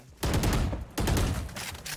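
Gunfire in the shooter game Valorant: two loud, close automatic bursts, each about three quarters of a second long, separated by a brief pause.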